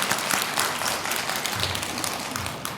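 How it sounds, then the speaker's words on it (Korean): An audience at a Buddhist Saturday dharma service in a temple hall claps for the abbot, a sustained wash of many hands from a moderate distance, fairly even throughout, with no speech over it. "다시 한번 우리 주지스님께 박수 한번 청해주세요."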